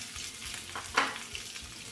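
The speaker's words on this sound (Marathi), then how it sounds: "2 मिनिटं आपण हे छान परतून घेऊयात तुपामध्ये" Boiled potato pieces sauté in ghee over a medium flame, a soft, quiet sizzle with one brief scrape of stirring in the middle.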